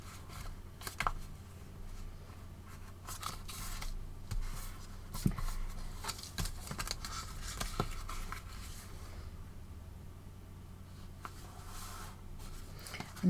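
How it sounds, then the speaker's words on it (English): Recycled coffee box card being folded by hand, its edges creased into the middle, giving soft close rustles, scrapes and light taps scattered over a steady low background. "now I'm going to fold these two edges into the middle"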